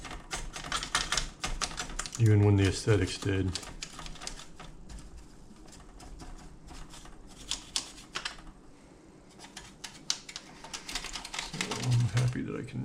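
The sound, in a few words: 1925 Royal typewriter being worked on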